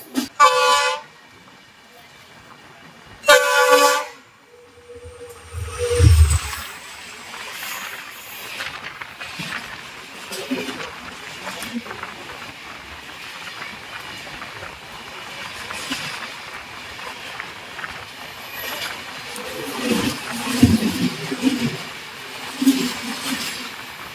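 Howrah to Ranchi Intercity SF Express running near Santragachi junction: two loud horn toots open, then a steady rumble and clatter of the moving train with occasional louder rattles, a voice briefly audible.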